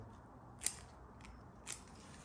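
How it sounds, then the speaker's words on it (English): Pruning shears snip twice at a camellia bonsai, two crisp, close cutting clicks about a second apart in an otherwise quiet room. "Again, I'm just cutting,"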